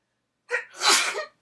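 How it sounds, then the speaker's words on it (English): A single close human sneeze, a brief sharp intake followed by a loud, breathy burst that fades out, set against silence. "This is the sneeze edition of my video."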